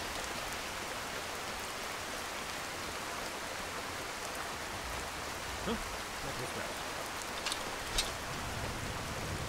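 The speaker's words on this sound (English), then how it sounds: "Gods, this rain is really coming down" Heavy rain pours down in a dense, steady hiss, with a few louder drop spatters standing out near the end and no voices heard.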